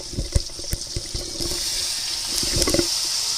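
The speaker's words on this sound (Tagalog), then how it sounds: "Nilagyan ko na ng tubig guys." Water pours into a cooking pot holding tomatoes, meat and salt for a simple home dish, a steady splashing fill running alone for a few seconds with some clinking near the start.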